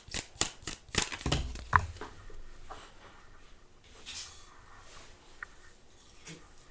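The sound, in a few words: shuffling tarot cards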